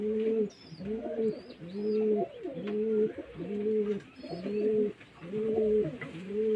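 Two pet pigeons, a male and a female, cooing in a steady repeated rhythm, with each bout of deep, throaty coos recurring about once a second, close and clear, with faint higher chirps above them.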